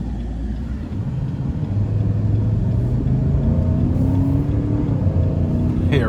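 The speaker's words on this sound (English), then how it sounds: "So right out the gate, very powerful V8." A 2021 Nissan Titan SV pickup with a V8 engine accelerates hard, a loud, steady engine roar climbing in pitch under constant road rumble, heard from inside the cab with no talking.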